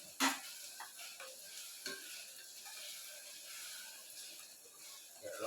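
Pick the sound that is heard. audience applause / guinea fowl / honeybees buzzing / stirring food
stirring food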